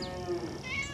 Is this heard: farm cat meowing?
yes